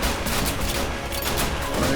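Dense rifle and machine-gun fire in a war film battle scene between soldiers and Chinese troops, loud, rapid overlapping bursts that continue without pause for about two seconds, with no talk.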